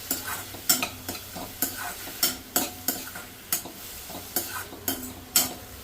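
Onions and green chillies fry in a pan for an omelette, with a steady sizzle under sharp rhythmic spatula scrapes and knocks, about two strokes a second, close and clear.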